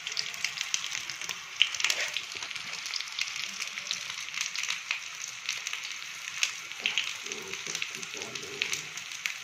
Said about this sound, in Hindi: फ्राई होने तक इसको पकाना है।